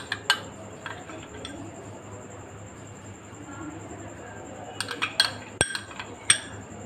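A crushed Oreo and cream mixture is spooned into a milkshake glass, giving scattered light clinks and taps of a spoon against glass over quiet room noise.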